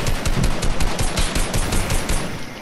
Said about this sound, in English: I tried shooting them down.